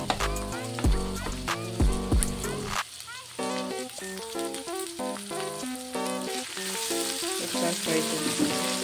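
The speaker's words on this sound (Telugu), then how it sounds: "ఒకసారి ఫ్రై చేసి" Carrot, capsicum and onion frying in a pan for homemade rice-flour pasta, a sizzle under prominent background music with a few stirring clatters early on.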